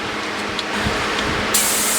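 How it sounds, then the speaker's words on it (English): Compressed air hose blasting through the oil passages of a chainsaw bar for a ported Stihl 026, a steady close broadband hiss for two seconds, turning sharper and brighter near the end. "Take our air hose to my bar and blow out the oil passages."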